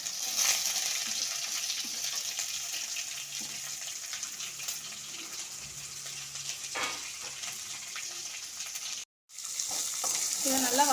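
Onion, curry leaves and dried chilies sautéing in a pan, a close, continuous sizzle with occasional stirring scrapes, briefly broken by a short gap near the end.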